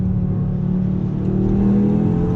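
Audi RS3 Sportback 2018 five-cylinder engine revving loudly and steadily from inside the cabin on the autobahn, a deep sustained drone that climbs slightly in pitch toward the end.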